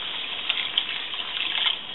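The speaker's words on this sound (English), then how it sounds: "I've just filled the jar about halfway up with water. Give it a shake to get the last of the sauce." A jar half filled with water and leftover chilli sauce is shaken, giving a continuous close sloshing, swishing rush of liquid for a couple of seconds with no talk.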